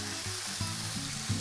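Fish cakes fry in a pan with a continuous crackling sizzle of hot oil, broken by a few soft rhythmic knocks and stirring sounds, close and fairly quiet, with no talking.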